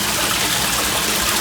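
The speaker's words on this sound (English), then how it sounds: "They got a waterfall in the lobby with koi fish." Indoor waterfall in a hotel lobby pond with koi fish in Destin, a continuous loud rush of splashing water filling the space with no pauses.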